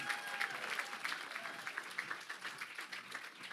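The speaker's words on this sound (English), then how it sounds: "Give him a round of applause." An audience claps for a speaker taking the stage at a PechaKucha night in Southwest Louisiana, a moderately distant, steady patter of many hands that thins slightly toward the end.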